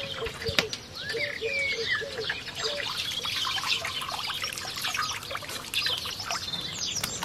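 Water pouring and trickling out of a beef lung as it is rinsed, a soft, uneven splashing that continues throughout at a moderate level, with no one speaking.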